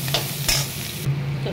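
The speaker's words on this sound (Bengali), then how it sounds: "এটাকে এবারে খুব ভালোভাবে হাই ফ্লেমে ভাজবো" Capsicum of three kinds with salt and chopped green chilli frying on high flame in a pan, a loud steady sizzle broken by a couple of quick scraping stirs, close and alone.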